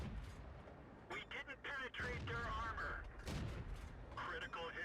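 Tank cannon shots and gunfire in World of Tanks gameplay around a T40, a few sharp booms spread through the clip beneath steady commentary.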